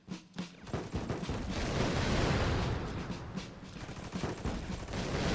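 Toy soldiers in the Attack on Toys video game let loose dense, continuous gunfire, rapid overlapping shots forming a loud fusillade that swells through the middle and carries on to the end.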